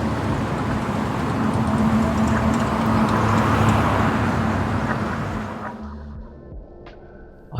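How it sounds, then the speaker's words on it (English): Dense city traffic rumbles steadily, with cars and buses passing close by in a continuous broadband roar that thins out toward the end as a few quieter sounds remain. "I'm going to be using this city traffic sound."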